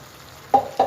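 Masala for fish curry frying in a pan, a soft steady sizzle with two brief louder bursts of hiss near the end, close and alone.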